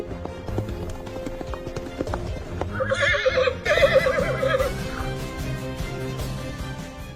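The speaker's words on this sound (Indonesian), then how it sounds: "tiba-tiba datang Tang dan memakai sebuah kuda putih." A white horse whinnies loudly in the middle of the clip while its hooves clip-clop steadily throughout, with a busy background and no talking.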